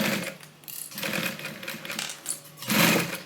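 A sewing machine stitches a fabric Bible cover in several short, buzzy bursts of rapid needle action, separated by brief pauses, close and clear.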